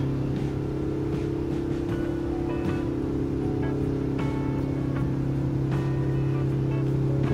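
A diesel car cruising steadily in third gear, a constant low engine drone with strong hum and road rumble throughout, close and even, with faint clicks and rattles on top and no talk.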